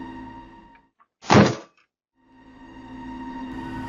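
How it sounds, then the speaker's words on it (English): A man kicking a house's front door trying to break it in, one heavy thudding impact standing out sharply between quiet stretches, with a low steady hum before and after. "relentlessly kicking the door, determined to break it down and finish what he started"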